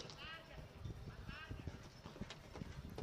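Pony hooves clip-clopping on an arena surface during a youth show jumping round, rapid irregular thuds moving at a canter under a commentator's steady talk, with occasional faint whinny-like tones in the background.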